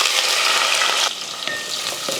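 Shallots and curry leaves sizzle in hot oil in a kadai, a steady close crackle with brief stirring scrapes, the hiss easing slightly partway through.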